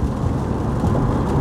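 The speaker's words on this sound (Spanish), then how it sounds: "Ojalá pare de llover para poder grabar algo." Steady rain falls outdoors in New York state, a loud, dense, continuous wash with low rumbling underneath and no voices.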